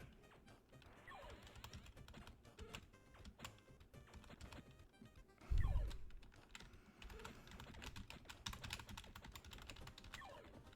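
Rapid, uneven typing on a computer keyboard while playing a Gravity Falls game, dense clattering keystrokes continuing throughout, with one louder thump near the middle and no speech.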